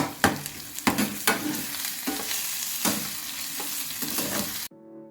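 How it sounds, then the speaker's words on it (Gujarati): Ginger-chili paste and onion sauté in an oily pan, a steady sizzle broken by sharp stirring scrapes, close and alone, ending abruptly. "સાથે આપણે આદુ મરચાંની પેસ્ટ નાખીશું થોડી, એને પણ સરસ સાતળી લઈશું"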